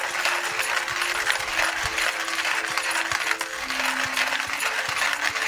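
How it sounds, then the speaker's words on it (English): Beans being ground in a Porlex hand coffee grinder, a steady close-up crunching and ratcheting grind running continuously throughout with no speech. "I can show you how long it actually takes to grind this coffee"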